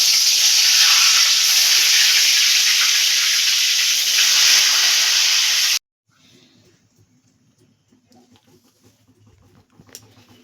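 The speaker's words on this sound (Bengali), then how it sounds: "মিডিয়ামভাবে আমরা বেগুনটাকে লাল করে ভেজে নেব" Eggplant (brinjal) slices sizzle loudly in hot oil with a dense, steady hiss for several seconds, then the sound cuts to quiet kitchen noise with light clinks.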